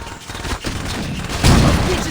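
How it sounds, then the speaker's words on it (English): Vice Kings gang members open fire in Saints Row, sustained loud gunfire crackling throughout with a heavier burst near the end, close and dense. "As soon as we do, the Vice Kings will be shooting."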